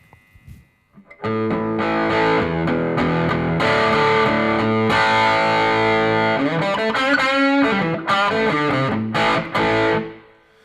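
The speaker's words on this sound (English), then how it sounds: "let's have a listen and see what this drive channel sounds like" An electric guitar plays through the drive channel of a Fender Deluxe 112 amplifier, strummed chords and single notes ringing loudly with crunchy distortion, alone with no talk.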